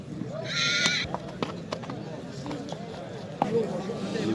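At a horse market in Nookat, Kyrgyzstan, a horse gives a short, bright whinny. Scattered hoof clops and knocks follow against a low crowd murmur.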